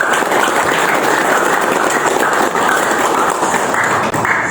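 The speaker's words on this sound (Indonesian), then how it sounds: "Minta aplaus yang kencang." A large audience at a political rally gives loud, sustained applause, a steady dense wash of clapping that holds at full strength for several seconds without pause.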